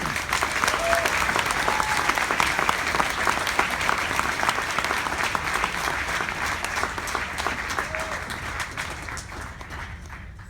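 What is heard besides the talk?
audience applause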